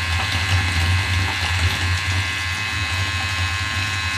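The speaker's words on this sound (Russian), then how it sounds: "Насос у нас начал качать горячую воду." A circulation pump pushes hot water through a closed heating loop, giving a steady low electric hum with a faint watery whir that runs unchanged from start to finish, with no talk.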